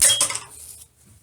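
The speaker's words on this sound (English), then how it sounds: "continue stirring it." Metal utensil scraping and clinking against a pot while ramen noodles are stirred, a quick cluster of bright clanks that fades to near silence within a second, with no voices.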